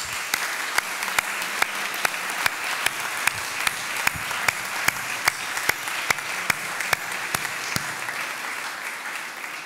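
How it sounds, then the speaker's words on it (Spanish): An audience at an awards ceremony gives sustained applause, a steady roar of clapping with one close, sharp clap ringing out at a regular beat over it for most of the stretch before it fades. "Por ellos pido un sentido aplauso."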